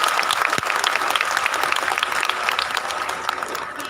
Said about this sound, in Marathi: जोरदार टाळ्या वाजवून आपण दादांचं स्वागत करूया